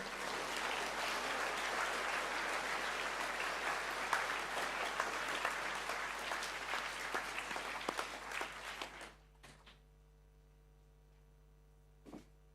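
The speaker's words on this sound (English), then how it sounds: "can I please put your hands together and congratulate these boys?" A school assembly audience claps to congratulate boys on their awards: steady, full applause through a hall for about nine seconds, then it quickly dies away into near quiet with a last stray clap.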